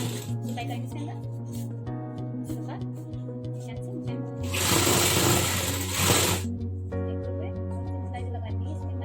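Sewing machine stitching the hem of a blouse sleeve, a steady mechanical needle rhythm running close by throughout, with a louder burst of whirring midway.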